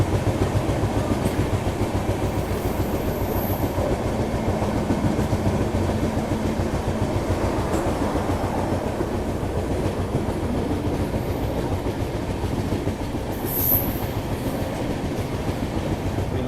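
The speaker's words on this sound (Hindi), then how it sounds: "यहाँ अभी अपनी ट्रेन खड़गपुर जंक्शन को स्किप कर रही है" A Duronto express train runs through Kharagpur junction without stopping, its steady rumble and dense wheel clatter filling the whole stretch, heard from on board with a couple of faint high squeals.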